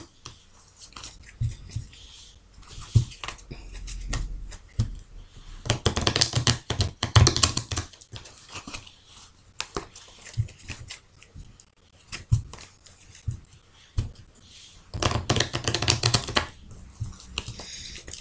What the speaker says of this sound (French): je vais bien mélanger le jeu